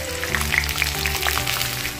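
Small shallots frying in coconut oil in a pan, a steady close sizzle with faint crackles, heard alone without any talk.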